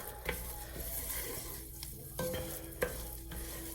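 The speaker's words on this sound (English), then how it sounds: "The reason we cook the roux so long is because you got to get the flour taste out." A spoon or spatula stirs a roux of flour and fat cooking in a pan, a steady soft scraping over a constant low sizzle with a few clearer strokes, close and without speech.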